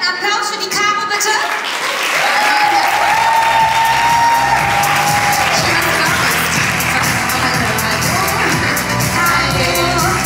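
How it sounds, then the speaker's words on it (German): Audience applause for Caro at a live event fills most of the stretch, beginning about two seconds in. It is loud, dense and sustained, with cheering and whoops mixed in and voices talking over it. "deswegen einen dicken, fetten Applaus für die Caro, bitte."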